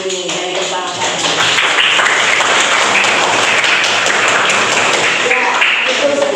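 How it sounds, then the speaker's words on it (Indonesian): A group at a meeting claps together, sustained dense applause from many people that swells and holds steadily, with a speaking voice at the start and near the end. "Nah, kita tepuk tangan dulu."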